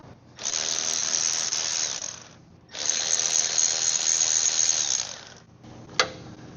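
A ratchet wrench works the nuts and bolts on a lawn mower engine, giving two long bursts of fast, close clicking separated by a short pause, then a single sharp metallic knock near the end.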